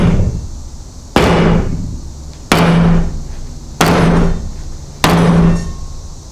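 Four heavy hammer strikes hit a wooden joint glued with Titebond wood glue, evenly spaced, each a loud close bang with a ringing decay and no talking.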